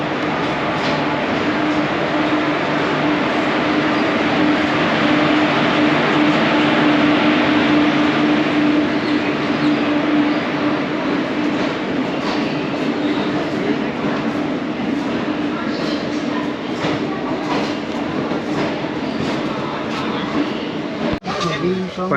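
The Aranyak Express rumbles at platform 4 of an Indian railway station, a loud continuous rail din with clanking and a brief sharp knock near the end, while people talk faintly in the background.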